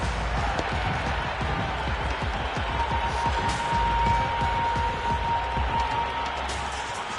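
A broad, steady roar of a large cricket stadium crowd in a video game, with scattered claps and a faint whistle tone, continuous and fairly distant.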